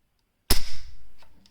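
The trigger of an AK-pattern rifle is pulled until it breaks, giving one sharp, loud, close mechanical dry-fire snap with a short metallic ring, then a much fainter click a moment later.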